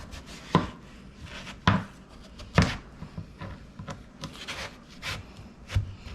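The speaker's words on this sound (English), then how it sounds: "So I'm just going to cut it in little wedges" A heavy knife chops through a very large pumpkin for roasted wedges, giving several sharp, hard cutting thuds at irregular intervals with quieter rubbing and scraping between them, close and fairly loud with no talking.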